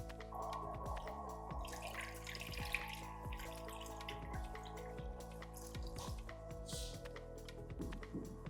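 Water poured into a container for splash photography of a bottle, heard as a close, quiet run of dripping and trickling with irregular splashy plinks, no talking.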